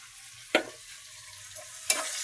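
Onions fry in a pan with a steady close sizzle, broken by two sharp scrapes as a spoon stirs them.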